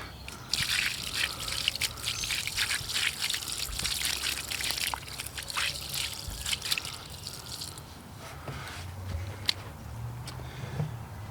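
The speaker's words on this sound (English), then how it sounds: "now we will give Robert a little rinse here" Water pours and trickles over a headstone during cleaning, a close splashing and dribbling stream with drips that eases and thins toward the end.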